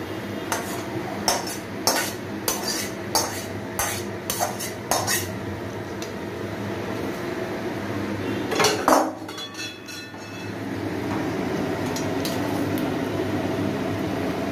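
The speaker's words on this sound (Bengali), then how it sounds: "এবার এটা আমরা খিচুড়ির মধ্যে আস্তে করে ঢেলে দেবো।" Tomato masala, sautéed until the tomatoes soften, tipped into a pot of khichuri with peas, with a run of metal clinks and scrapes of a spoon against the pan, then a soft thick pour and quiet kitchen background.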